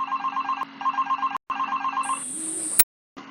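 A telephone rings in a steady repeating electronic trill, three ring bursts close and clear with no one answering, then cuts off abruptly.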